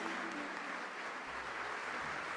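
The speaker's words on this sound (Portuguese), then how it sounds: "Vamos dar um forte aplauso ao Senhor Jesus pela vida dela." Applause from a church congregation during a worship service, a dense, steady wash of clapping that fills the whole stretch at an even level, with no voices standing out.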